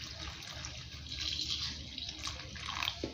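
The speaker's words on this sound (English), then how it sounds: "Then I'll add my warm water. Adding the warm water" Warm water is poured over editan leaves, giving a continuous soft splashing stream with small gurgles that rises and falls slightly, close by and fairly quiet, with no talk.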